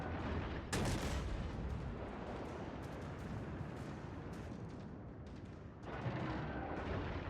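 Naval gun salvo from a warship in a World of Warships battle, striking near aerodrome runway buildings: a sharp loud boom followed by sustained rumbling, then a second heavy blast late on, with no voices.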